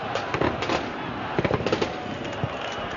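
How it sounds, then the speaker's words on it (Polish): Scattered bursts of police gunfire crack in quick clusters at a distance during a Cracovia–Wisła football match, sharp pops standing out over a murmuring crowd background. "te odgłosy, to nie są fajerwerki. To jest to jest broń e, policyjna"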